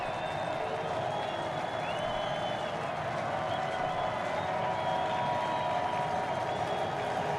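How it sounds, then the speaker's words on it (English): Football stadium crowd during a college game between South Dakota State and North Dakota, a steady roar of cheering and scattered applause that swells slightly, heard from a distance with faint voices mixed in. "Crowd gets a little bit louder here."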